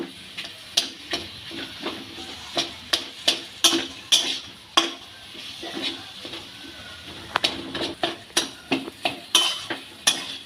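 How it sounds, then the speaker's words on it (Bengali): Potatoes with a little garlic paste are stir-fried for Bengali aloo chop: a spatula scrapes and taps the pan in a steady rhythm over a soft, continuous sizzle. "এবার আলুগুলো ভালো করে কষিয়ে নেব।"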